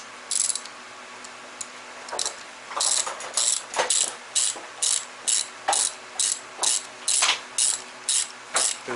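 A ratchet tightens the cylinder head bolts on a 1.8T engine, starting with scattered clicks and settling into a steady run of regular, close ratcheting strokes.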